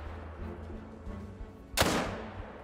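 A single loud hunting-rifle shot cracks out near the end of a quiet outdoor stretch, with a low background rumble before it and a long, decaying echo after.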